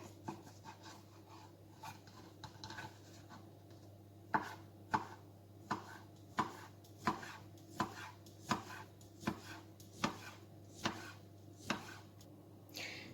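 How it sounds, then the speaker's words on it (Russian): A knife chops sausages into cubes on a cutting board, about a dozen sharp, evenly spaced knocks over a low steady hum, with softer scraping before the rhythm starts. "Сосиски нарезаю кубиками."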